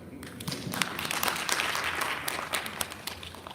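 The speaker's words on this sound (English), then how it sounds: "So, round of applause." Audience applause at a career aspiration workshop, a dense, steady wash of many hands clapping in a room for about three and a half seconds, moderately loud with no clear voices over it.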